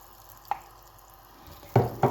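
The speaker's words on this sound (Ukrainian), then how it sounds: "Значить, я додаю смалець." Lard added to a hot pan to start a fry-up for stewed potatoes with pumpkin, a quiet background hiss broken by a small tap and then two louder sizzling bursts close by.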